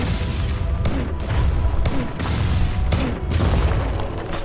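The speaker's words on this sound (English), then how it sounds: "it looks like they explode on contact" Projectiles bursting in the shooter game FireFall, a string of heavy booming blasts that hit every second or so, loud and close, over a dense rumbling battle background.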